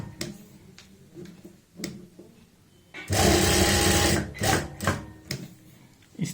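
A sewing machine stitches a border strip onto a neckline. Faint ticks and handling come first, then a loud, close burst of rapid stitching for about a second, followed by shorter bursts.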